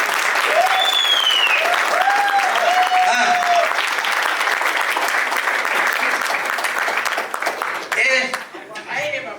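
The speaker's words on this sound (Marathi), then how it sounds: "वाजवायच्या नीट टाळ्या वाजवा" An audience applauds at a trailer launch event for a Marathi film. Sustained, loud crowd clapping fills the room and tapers toward the end, with voices calling out over it.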